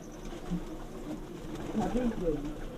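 Soft coos from racing pigeons rise now and then over a low, steady background murmur, close by but fairly quiet.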